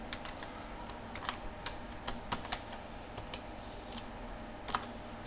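Quiet typing of code on a computer keyboard, with irregular soft key clicks and occasional sharper taps over a faint background hum, fairly close and without any voices.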